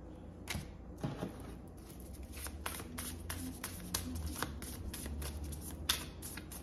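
Tarot cards being shuffled by hand produce a close, continuous riffle of crisp papery flicks and slaps, steady and fairly quiet with no talking.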